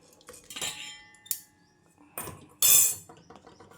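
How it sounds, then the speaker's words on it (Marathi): An iron kadhai set down on a stove, several sharp metallic clanks and scrapes of metal cookware at close range with quiet gaps between them, no talking. "तर मी इथे कढई ठेवलेली आहे."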